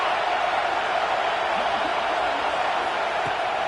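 A stadium crowd at a football game roars in a steady, dense wash of noise, loud and unbroken for several seconds.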